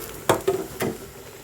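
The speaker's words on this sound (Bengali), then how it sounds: "এবার আমি বাকি ডিমগুলো দিয়ে দিব।" Eggs drop into a simmering potato curry in a cooking pot, giving two or three brief soft plops and clinks that fade over a low bubbling background.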